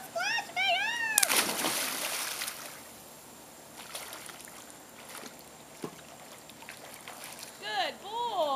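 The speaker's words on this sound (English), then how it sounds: "Oh, don't splash me, don't splash me." Children splashing water while swimming, with sharp bursts of splashing and sloshing up close, mixed with high children's squeals and nearby voices talking.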